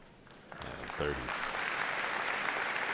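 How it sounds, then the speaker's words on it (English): Applause from the audience in Paul VI Hall as Pope Leo XIV comes onto the stage for his first press conference. It swells from faint to a sustained, distant roar, with a brief voice briefly over it. "And we hear the applause, and Pope Leo XIV comes out onto the stage here in Paul VI Hall."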